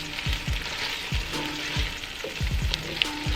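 Jollof rice simmering low in a cast iron pot gives a steady sizzle with a run of soft, repeated thuds and scrapes, like a spoon stirring and tapping the pot, close and continuous with no talking.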